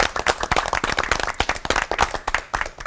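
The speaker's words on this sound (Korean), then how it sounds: "세 분 목사님께 박수 부탁드립니다" An audience claps enthusiastically at a church television lecture, a dense burst of applause from many hands that rises and falls continuously.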